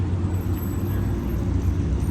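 A Porsche car passing along a city street, a steady, fairly loud low rumble of engine and road noise with busy traffic around it and no clear voices.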